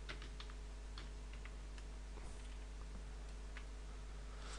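Light, irregular clicking of computer keys as someone types into a spreadsheet, with scattered close taps over a faint steady hum and no talk.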